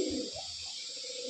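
Madrasi pigeons in a loft give soft, low, throaty coos in a short burst of pulses over steady background hiss.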